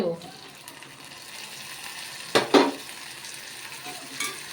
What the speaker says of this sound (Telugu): కొంచెం కరివేపాకు, టమాటాలు ఈ విధంగా వేగుతున్నాయండి